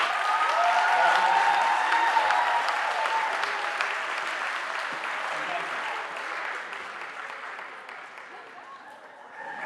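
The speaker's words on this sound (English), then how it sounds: "if you please give a round of applause" At a school Founder's Day ceremony, an audience applauds a staff member with full, dense clapping that starts loud and gradually thins and fades over several seconds.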